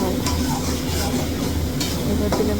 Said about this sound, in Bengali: এবার দিলাম 1 চামচ ঘি দিয়ে আবার একটু কষিয়ে নিলাম